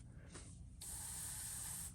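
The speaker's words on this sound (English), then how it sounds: "We're gonna be spraying this with the custom micron Takumi." A Micron Takumi airbrush sprays white paint onto a shad fishing lure, giving a close, steady, airy hiss that starts abruptly after a brief puff and holds to the end.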